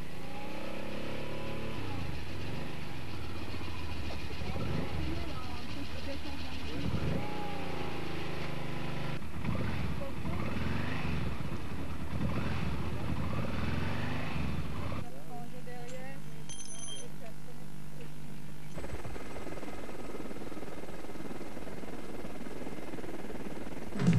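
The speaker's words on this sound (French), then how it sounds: "Les 4x4 et les motos continuent leur voyage." Engines of 4x4 cars and motorcycles revving and roaring past over rough ground during a 1988 rally raid in Morocco, with a narrator talking over it throughout.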